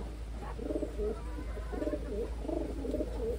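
Pigeons coo in soft, rolling phrases, several bouts repeating close by over a low steady background hum.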